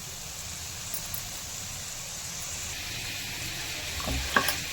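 Onions sautéing in a pan for paneer butter masala make a constant low sizzle and hiss, with a brief stirring clatter near the end and no voices.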